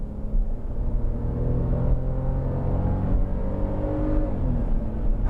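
Smart Fortwo in sport mode pulling away: a modest, steady engine drone and whir that slowly rises in pitch over several seconds, moderately loud from inside the car, with no talking.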